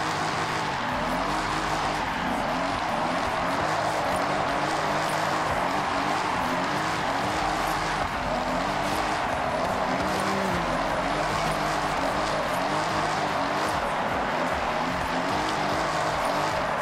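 In the video game Forza Horizon 6, a car engine holds a loud, continuous high-RPM drone with wavering pitch, mixed with tire noise and game sound and no pauses.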